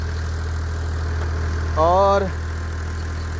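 An old tube well engine idles with a steady, deep low rumble. A voice speaks briefly partway through over the continuous drone.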